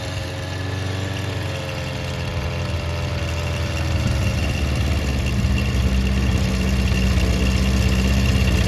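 A Honda CB400 Four motorcycle engine idles steadily with a low, dense rumble while warming up, then its pitch and loudness rise slightly about halfway through as it revs up and holds.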